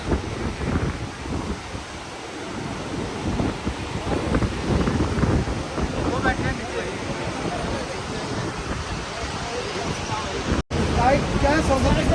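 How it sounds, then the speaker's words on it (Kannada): The Saraswati river flows at Mana near Badrinath, making a loud, steady roar of rushing water close by, mixed with wind buffeting, and continuous for the whole stretch. "ಇಲ್ಲಿ ಸರಸ್ವತಿ ನದಿ ಹರಿತಾ ಇದೆ"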